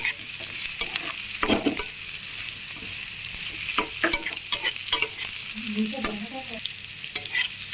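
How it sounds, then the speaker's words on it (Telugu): Taro pieces stirred in a frying pan, a continuous gentle sizzle broken by irregular scraping and clacking of the spoon, close and moderately quiet. "ఇప్పుడు ఈ చామదుంపలు ఉన్నాయి కదా, ఇవి ఇందులో వేసేస్తున్నాను. ఇలా వేసి ఒకసారి కలుపుకుందాము."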